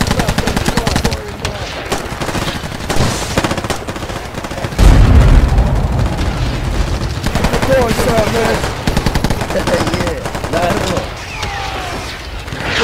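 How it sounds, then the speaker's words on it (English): Dense, continuous machine gun fire with booming explosions rages loudly throughout a toy army men stop-motion battle, with shouted voices mixed in. "Keep suppressing fire!"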